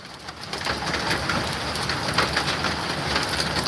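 Hail pelting down hard in a Poltava-region village yard, a dense, steady roar of pellets striking surfaces that runs on without a break, with faint bird calls in the background.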